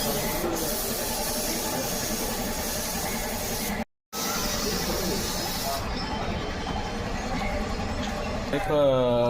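Filler is sprayed onto a Toyota Etios car body during paint touch-up work: a loud, steady hiss runs almost the whole time, broken once by a brief dropout.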